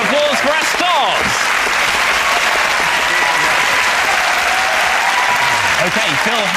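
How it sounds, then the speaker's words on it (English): Studio audience applause for the stars on a music panel quiz show, a loud, continuous roar of clapping and cheering that stays at full strength throughout, with a voice briefly audible over it near the start. "please join me in a round of applause for our stars"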